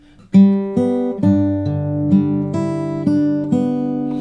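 A fingerstyle guitar plucks the slow hymn melody of Jesus Paid It All, each note ringing clearly and overlapping the next, played close and alone.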